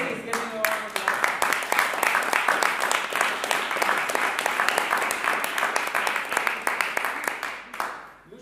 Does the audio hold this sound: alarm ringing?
no